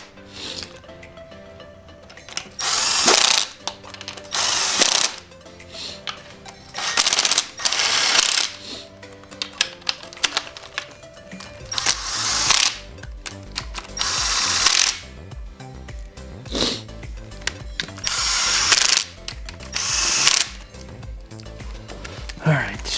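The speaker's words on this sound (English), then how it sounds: "I'm gonna tighten these up just a little bit so it's sealed." Bolts on a Subaru engine being tightened during a rebuild, heard as bursts of ratcheting and power-tool whirring that come and go in clusters at close range, with a steady mechanical bed underneath and no talk.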